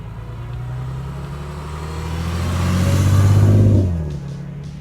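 A Lexus IS car drives past outdoors, its engine hum swelling as it approaches, peaking near the midpoint, then fading quickly as it moves away.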